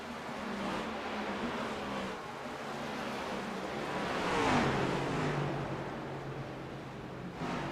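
A NextGen Cup race car at Iowa Speedway in the iRacing video game roars steadily, its engine drone swelling and sweeping past in the middle before settling back to a constant hum.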